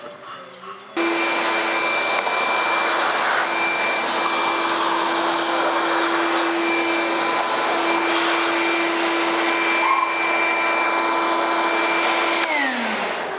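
A vacuum cleaner switches on and runs steadily at close range with a loud, constant roar and a high whine, then begins to wind down near the end, with no voices over it.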